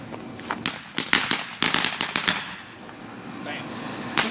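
Fourth of July fireworks and firecrackers go off in a rapid string of sharp, loud cracks and bangs. They come in dense bursts for about two seconds, then thin out to a few scattered pops. Voices and crowd noise sit faintly underneath.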